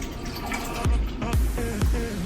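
Coconut milk pours into a blender with a low, steady gurgle, broken by three deeper glugging plops spaced roughly half a second apart.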